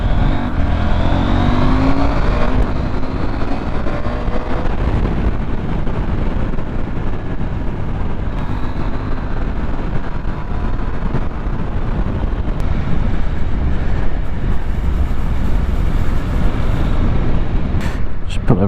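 A KTM 890 Adventure motorcycle engine pulls hard under acceleration, a continuous loud roar mixed with rushing wind noise from riding, sustained across the whole stretch without a break.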